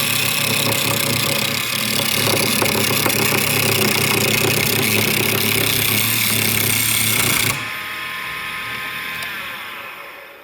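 A hobbyist's wood lathe turns a slender wooden furniture leg, a loud, dense whirring and scraping of the cutting tool that stops abruptly near the end, leaving a quieter motor hum.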